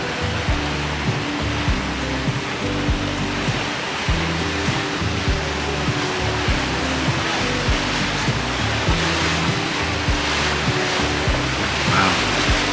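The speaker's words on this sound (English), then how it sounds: "these waterfalls are beautiful" Waterfalls spilling down the walls of Tracy Arm fjord in Alaska, a steady broad rushing roar that holds loud and unbroken from start to finish with no voices over it.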